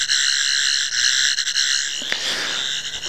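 A toy Doctor Who sonic screwdriver (Matt Smith version) making a steady high electronic whirring tone with a sputtering, flickering broken quality, holding for a few seconds before breaking up into crackly noise.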